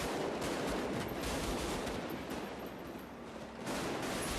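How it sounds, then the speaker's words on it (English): Dense, continuous gunfire from the film Heat's shootout with police roars without pause, rapid automatic bursts blending into a loud, chaotic barrage with no voices. "firing in all directions at the cops in a desperate escape attempt"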